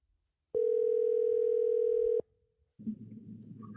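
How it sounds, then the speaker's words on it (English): A telephone call rings through to the other end: one long steady electronic ring tone sounds clearly, stops abruptly, and is followed by faint background noise. "Ringing."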